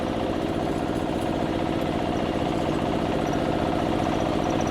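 A walking tractor (power tiller) engine driven on a road, running with a loud, steady, rapid chugging putter from close by; no clear rise in pitch is evident.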